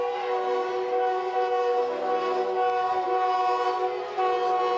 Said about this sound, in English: As a train goes by beyond the wall and left